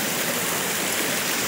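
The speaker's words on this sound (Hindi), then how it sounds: "एक छोटा सा झरना पीछे भी आ रहा है," A small waterfall rushes steadily in the background, a brief, even wash of falling water with no other sounds.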